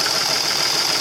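An old car engine runs steadily just after starting, a short unbroken idle with a bright tonal whine over a rough mid-range rumble.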